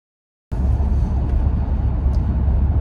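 2022 Jeep Grand Wagoneer luxury SUV with Quadra-Lift air suspension cruising down the road, a steady loud low road and engine rumble that starts abruptly and holds evenly, no voices.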